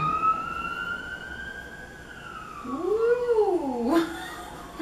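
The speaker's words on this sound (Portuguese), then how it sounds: "É passar a ambulância." An ambulance siren sweeps past outdoors, its wailing tone gliding down and then dipping and rising as it goes by, moderately loud over background noise.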